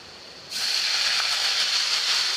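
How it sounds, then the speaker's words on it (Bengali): Water poured into a pan of frying onions in hot oil sets off a sudden loud, close hiss. It starts after a short quiet moment and holds steady for about two seconds. "এখন একটু পানি দিয়ে দিব যাতে পেঁয়াজটা পুড়ে না যায়"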